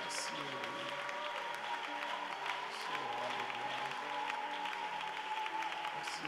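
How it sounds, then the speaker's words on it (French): A church congregation applauds steadily in a broad, sustained wash of clapping, with a sung or spoken voice carrying over the crowd throughout. "Merci d'acclamer Jésus"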